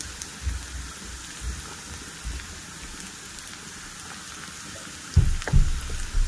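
Garlic and onion frying together in a pan with a little salt, a steady soft crackling hiss with low dull knocks and a louder burst of clatter near the end.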